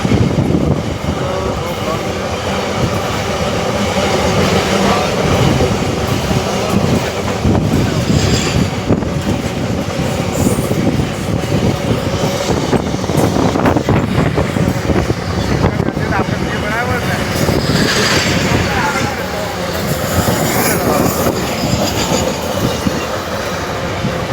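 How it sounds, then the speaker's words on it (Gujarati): A loud train rumbles past close by, a continuous roar of wheels on rails with rhythmic clacking and brief squeals. "કેટલી મોટી ટ્રેન એ તમે જોઈ શકો છો ગાઈસ"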